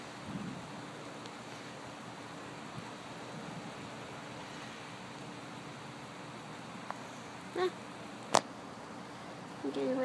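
Thunderstorm with steady rain falling outdoors at dusk, a soft continuous hiss with a couple of sharp, brief cracks near the end; a person talks quietly at times.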